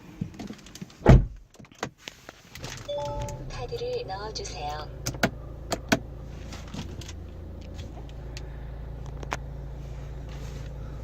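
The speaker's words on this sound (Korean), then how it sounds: "안에 들어가서 시동을 한번 걸어보도록 하겠습니다" A car door thumps shut on a 4th-generation Kia Sportage 2.0 Noblesse Special, a chime sounds and a short automated voice prompt plays, then the engine starts and settles into a low idle hum.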